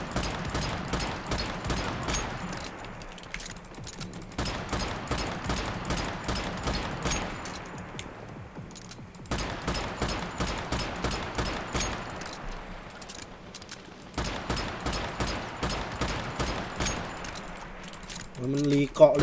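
Gunfire in the video game Once Human: long sharp bursts of rapid automatic shots in four tight runs separated by brief pauses, loud and close, with a short clatter at the end.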